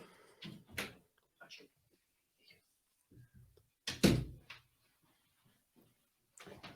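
A house door opens and shuts to let a dog out, producing a few scattered knocks and a sharper bump partway through, fairly close but quiet, with short bits of nearby talk between the sounds.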